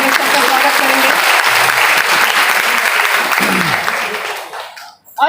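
Seminar audience gives a loud, sustained round of applause at a college welcome ceremony, steady dense clapping that fades out near the end.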